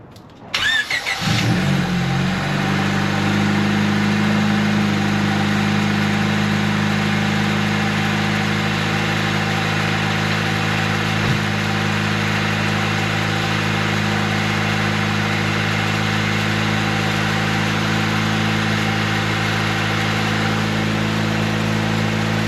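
A car engine, just refitted with a new valve cover, cranks briefly and catches, then settles into a steady, even idle that runs close and loud for about twenty seconds with no voices.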